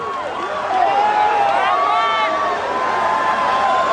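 A large outdoor crowd at an Earth Day rally in Washington, D.C. cheers and shouts continuously, a loud, dense roar of many voices with whoops rising over it.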